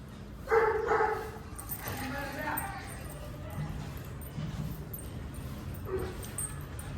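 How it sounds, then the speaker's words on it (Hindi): Several dogs, including beagles, sniff around each other in a hostel and give a few short yips and barks, with soft whimpers mixed in, heard close against a background of ongoing conversation. "सब ढूंढ रहे हैं फीमेल डॉग्स को, एक दूसरे को स्मेल करते हैं"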